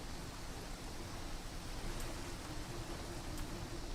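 Steady, soft rain in a video game, a continuous even wash of falling drops with no voices over it.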